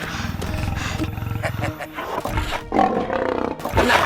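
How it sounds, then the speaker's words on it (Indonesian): A tiger roars loudly and close, in several rough, drawn-out bursts mixed with shouting voices and other commotion from a comedic lenong sketch. "Ayah dikejar harimau."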